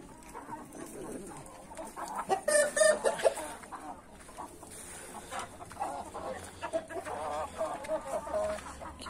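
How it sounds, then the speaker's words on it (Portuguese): A young black pullet hatched in an incubator, clucking repeatedly in a farmyard among other chickens, with a cluster of louder clucks early on and steady softer clucking throughout. "Tá ali a franguinha preta."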